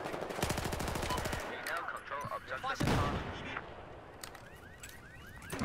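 MX4 gun of the engineer class firing in a first-person shooter video game: a rapid, loud burst of automatic gunfire, followed by scattered shots, an explosion-like thump and other game effects.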